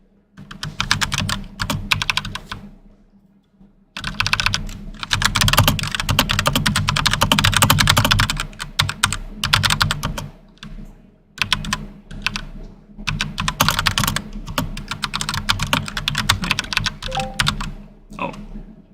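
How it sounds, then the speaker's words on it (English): Rapid computer keyboard typing clatters up close in dense bursts, pausing briefly around the third second and again near the tenth, with no talking over the keys. "キーボード ASMR やな、ほんまに。"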